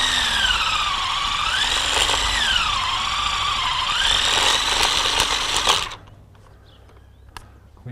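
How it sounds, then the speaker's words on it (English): A cordless drill bores a hole into a tree for a syrup tap, whining steadily with a wavering pitch for several seconds, then cuts out, leaving near silence with a faint knock. "Grab your drill and drill."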